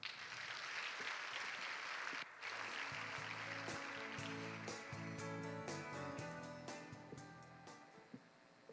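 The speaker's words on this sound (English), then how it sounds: "a warm round of applause" A warm round of applause from the audience at a senior high school commencement ceremony at Bulacan State University, dense and steady, briefly dipping, then thinning toward the end with some music-like tones underneath.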